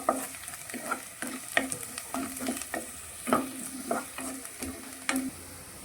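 Onion and crushed garlic fry in a pan for an egg sukka, an even sizzle broken by repeated scraping stirs at a steady rhythm, close and fairly loud with no voices.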